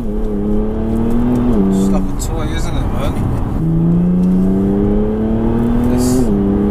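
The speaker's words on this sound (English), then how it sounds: "It's quite a loud exhaust, isn't it, as well?" Loud exhaust of a widebody Audi S4 with custom pipework and the rear box deleted, revving up in steady pulls with a strong droning note, with someone talking over it.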